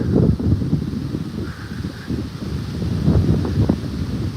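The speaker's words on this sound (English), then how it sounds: "Windy guys, windy." Strong wind buffets the microphone in rough, roaring gusts, with rustling noise throughout and a faint tonal sound briefly in the background.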